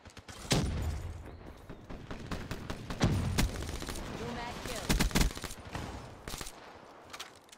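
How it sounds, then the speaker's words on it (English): Sharp, loud shotgun blasts in Call of Duty: Black Ops 3 multiplayer, several separate booming shots spaced a second or two apart with a few quicker cracks, alongside someone talking. "Our teammate just shotgunned the fuck out that kid"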